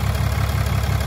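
A 2018 pickup with a 6.7 Cummins diesel, tuned and with the EGR deleted, idles with a loud, close, steady low rumble and an even knocking pulse.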